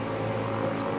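A helicopter engine idles on the ground in a remote spot, a steady close rotor and turbine drone with a sustained hum that holds level throughout, no voices.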